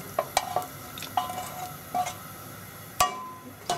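Chopped carrots and potatoes drop into a pot of Japanese curry, a few separate clunks and knocks against the pot with light clatter and a faint sizzle between them.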